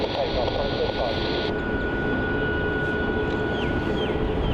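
A Qantas A330-200 airliner bound for Singapore waits lined up on the runway at Melbourne Airport, its engines a loud, steady broadband roar and whine, with a voice talking over it.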